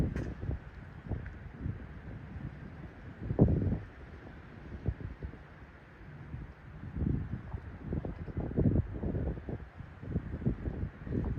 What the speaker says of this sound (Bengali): আপনারা হয়তো বাতাসের আওয়াজ শুনতে পাচ্ছেন